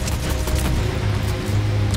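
Dense, rapid gunfire from the video game Fortnite crackles continuously and loudly for a couple of seconds with no voices heard.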